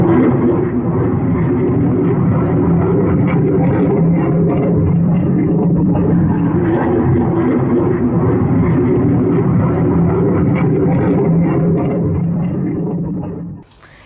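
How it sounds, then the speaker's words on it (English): A mysterious diamond-shaped sixth-generation fighter jet passes over the city of Chengdu, a loud sustained roaring rumble that holds steady for many seconds before cutting off abruptly at the end. "Residents in the city of Chengdu recorded a mysterious plane flying over the city."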